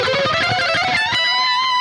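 A distorted electric guitar plays a fast chromatic shred lick, a quick run of sharply picked notes that ends on a single sustained note.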